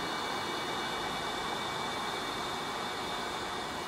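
A vacuum cleaner with an attachment sucks dirt from an air-conditioner grille, giving a constant, even rushing hiss with no change in pitch, alone and with no voices.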